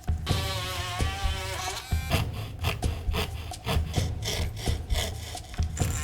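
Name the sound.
sanding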